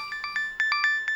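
A phone ringtone for an incoming call from an unknown number chirps in a quick series of clear electronic beeps, close and alone.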